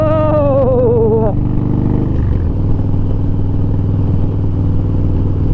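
A 2012 Harley-Davidson Deluxe motorcycle being ridden, its engine rumbling loud and steady close by, with a rising rev at the start that settles into a constant cruising drone.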